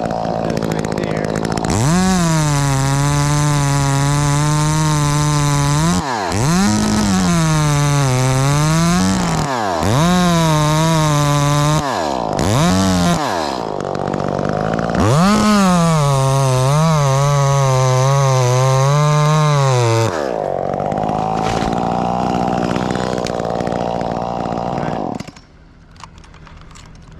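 A chainsaw makes felling cuts in a dead oak, loud and close, the engine revving up and bogging down in repeated bursts with brief drops to idle between cuts before cutting off near the end.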